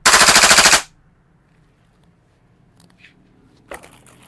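An airsoft gas blowback pistol fires a rapid, loud full-auto burst that stops abruptly under a second in, followed by near silence and faint handling clicks.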